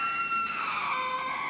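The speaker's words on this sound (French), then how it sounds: "c'est gentil un enfant qui hurle, c'est magnifique" A child screams, one sustained high-pitched shriek that shifts in pitch partway through, moderately loud and heard alone.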